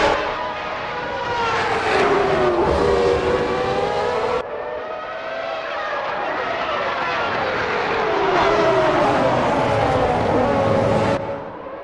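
Several 1991 Formula 1 cars in a racing game roar off the starting line together, layered engine tones rising and wavering loudly and steadily across the whole stretch, with a brief dip midway.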